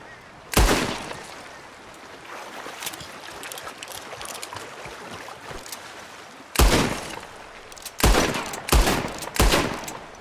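A gunshot in Red Dead Redemption 2 blasts off a lock with one sharp loud crack, then ambient game noise carries on, and a quick burst of three or four more shots follows near the end.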